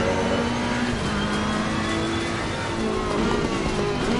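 A GT race car engine roars at Monza in Assetto Corsa Competizione, loud and close, its pitch climbing and dropping through gear changes across the whole stretch.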